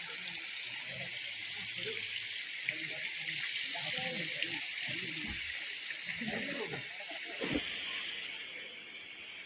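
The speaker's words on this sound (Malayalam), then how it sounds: "താഴെ നിന്ന് ഒഴുകി വരുന്ന ഒരു പോർഷനിലെ വെള്ളം നേരെ ചെന്ന് താഴത്തോട്ട് വന്നിട്ട് ഈ കുളത്തിലോട്ടാണ് വരുന്നത്." Steady broadband rush of water flowing down from a cave stream into a pond, continuous hiss-like flow throughout with voices talking faintly underneath.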